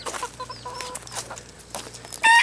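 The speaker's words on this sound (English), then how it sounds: "these are all roosters over in here" Roosters in a pen cluck and murmur close by in a steady, busy chatter, with a sharper call breaking in at the end.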